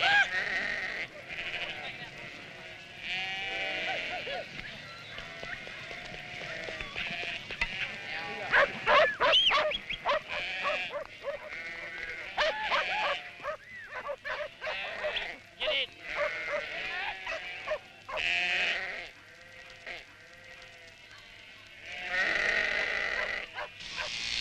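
Sheep bleat repeatedly across island hillsides where flocks graze in large numbers, overlapping cries rising and falling amid a steady backdrop, with a narrator's voice running through much of the scene.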